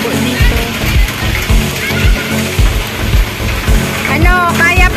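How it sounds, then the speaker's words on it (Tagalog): Heavy rain pours loudly and steadily onto a surface, with splashing and sloshing water throughout, while people talk over the downpour. "Sobrang lakas talaga ng ulan."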